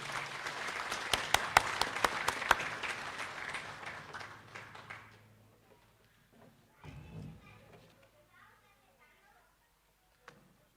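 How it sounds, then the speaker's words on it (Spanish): Audience applause at a political-ideological training event greeting an arriving speaker: dense, sharp clapping for about five seconds that thins out and fades, followed by a voice speaking faintly and a few scattered sounds. "Vamos a pedir con un fuerte abrazo, con un fuerte aplauso"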